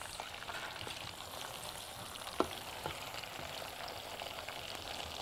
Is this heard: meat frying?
yes